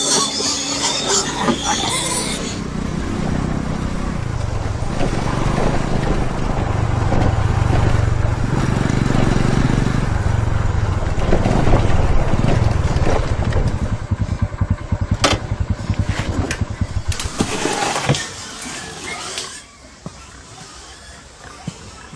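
Motorcycle with a starting problem: its engine rumbles loudly and continuously for most of the stretch, then cuts down sharply near the end, leaving quieter sounds.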